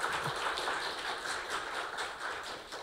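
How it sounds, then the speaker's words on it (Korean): Applause from a university forum audience for a professor's lecture, a broad, continuous wash of many hands clapping that sounds somewhat distant and soft and holds steady for about three seconds. "다시 한번 좋은 강연 해주신 송한범 교수님께 큰 박수 부탁드립니다"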